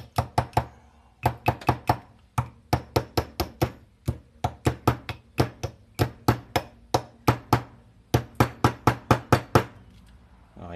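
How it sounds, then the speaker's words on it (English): A small hammer taps bearings off a BMX freecoaster hub in a run of sharp metallic knocks, steady and close, with short pauses between bursts. "Trusty little hammer, here we are. We'll just give him a little bit of a tap."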